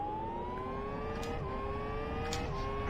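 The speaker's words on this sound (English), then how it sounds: "I love the sound of this silly engine." The BF1 open-wheel race car engine in Live For Speed drones with a steady high-pitched whine, climbing gradually through the gears with a brief drop at a shift, loud and continuous.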